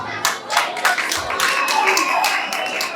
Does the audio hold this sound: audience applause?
yes